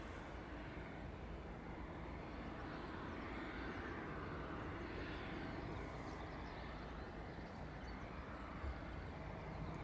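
An airplane climbs away after takeoff at East Midlands Airport, a steady distant broadband engine roar that stays even and faint throughout.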